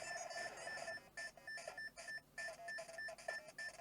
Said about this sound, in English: There's also a lot of beeping going on